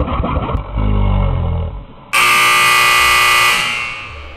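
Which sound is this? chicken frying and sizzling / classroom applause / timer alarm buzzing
timer alarm buzzing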